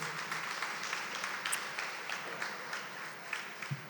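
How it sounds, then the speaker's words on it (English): Faint, steady applause from a conference audience, a dense wash of many hands clapping heard from some distance without any talk. "Can we give him a round of applause again?"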